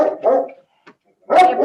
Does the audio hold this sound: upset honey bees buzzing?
no